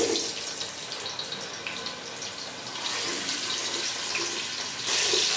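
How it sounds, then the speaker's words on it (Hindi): Halved and whole potatoes sizzle in half a cup of hot oil for chicken dum biryani, a steady, close, hissing frying sound that swells louder toward the end, with no talking. "ये हम गरम तेल में डाल देंगे."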